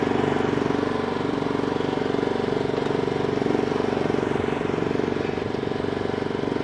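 A vehicle engine runs at raised throttle nearby, a steady loud droning hum with a regular pulsing beat that holds evenly throughout, no talk over it.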